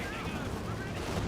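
Landmatress rocket barrage in the Company of Heroes 2 video game, a dense, continuous burst of overlapping rocket blasts and explosions, loud and close for a brief moment.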